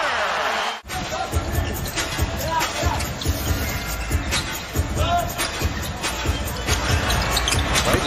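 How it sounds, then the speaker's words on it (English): A basketball is dribbled repeatedly in an arena during an NBA game, the rhythmic thumps heard amid crowd noise and sneaker squeaks while a commentator talks over them. "Klay just kind of dribbles into the three."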